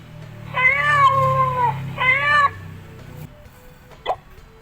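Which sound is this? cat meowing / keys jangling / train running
cat meowing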